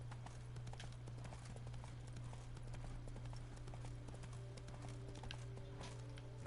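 Hooves of Roach, the horse in the video game The Witcher 3, clip-clopping in a steady walking rhythm, fairly quiet beneath a constant low game ambience.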